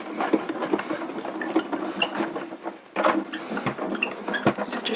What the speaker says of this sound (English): we're going to emboss it and pop it through the machine